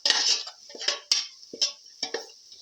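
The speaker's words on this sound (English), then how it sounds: "Salt and mix the ingredients together." A metal spoon stirs chicken pilaf ingredients in a pot, making close scraping sounds and a few clinks against the pan in quick, irregular strokes.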